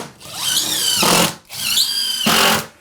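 Power drill driving flooring screws into a subfloor during water damage repair: two whirring runs, each rising in pitch before bogging down as the screw seats, close and loud.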